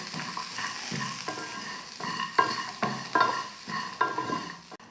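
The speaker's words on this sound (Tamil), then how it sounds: "இப்போ இதெல்லாம் சேர்த்து நல்லா வறுத்துக்கலாம்" Sesame seeds, cashews and coconut dry roasting in an oil-free kadai, with repeated scraping strokes of a spatula every second or so against a faint dry rustle, close and moderate in level.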